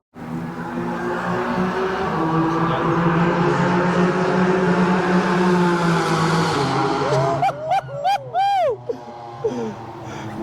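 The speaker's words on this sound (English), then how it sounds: "That Cayman GT4's got like a straight pipe on it and it is nuts. He's screaming down there." A straight-piped Porsche Cayman GT4 races around the Nürburgring on a soaking wet track. Its loud, raw engine builds into a sustained high scream, then breaks into short, sharp bursts of revving near the end.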